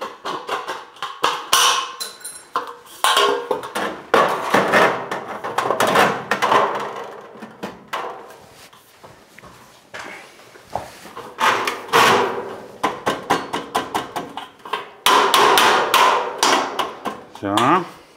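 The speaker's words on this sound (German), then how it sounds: "Jetzt muss ich ja oben noch eine Schräge dran schneiden." A drywall board being cut to a bevel for a bathroom niche gives bursts of sharp, rasping strokes in irregular clusters, close and fairly loud, with short pauses between runs.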